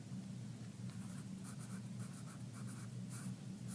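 Pen or pencil writing by hand on paper during a spelling lesson, a steady close scratching of strokes over a constant low hum, with no talk.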